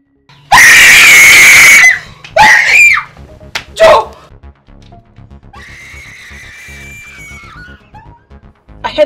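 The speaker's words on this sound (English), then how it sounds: "I heard someone screaming." In a Nigerian movie scene, a person lets out a loud, piercing scream, followed by shorter shrieks and gasps, then quieter overlapping voices and background sound.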